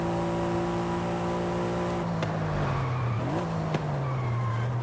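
Heavy Mercedes SL, about 4,265 pounds, driving in Forza Horizon 5: a steady engine drone with a shifting pitch, sharp gear-change pops partway through and faint tire noise, no talking.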